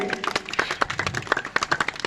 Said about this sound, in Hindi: जोरदार तालियां बजाएं बच्चों के लिए